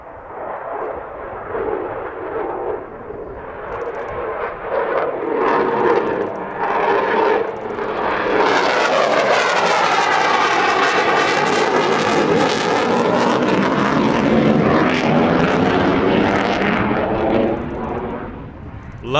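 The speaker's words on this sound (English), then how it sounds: "Now get ready for another on-crowd loaded roll." A display jet at the Southport Airshow 2022 sweeps over the crowd in a loaded roll, its roar building from a distant rumble to a loud, sustained, sweeping blast with a pronounced Doppler shift.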